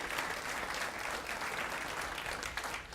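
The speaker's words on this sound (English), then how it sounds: "So I want to give you a round of applause for that." Audience at a high school scholarship luncheon breaks into sustained applause, a fairly distant, even wash of many hands clapping throughout.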